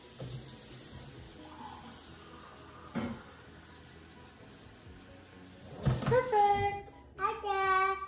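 Tap water runs into a container while a parent and toddler prepare to cook in a home kitchen, the flow rising loud near the end beneath a voice and brief speech.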